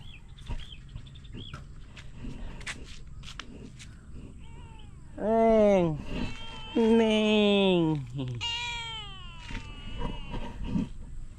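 A cat meows a few times, drawn-out and wavering, close by, with a person speaking briefly and outdoor background noise.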